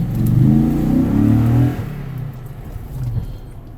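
A Toyota Tundra with an upgraded TRD exhaust and the tailpipe removed revs loudly up close, the deep engine note holding before dropping back to a lower idle with a smaller second rise.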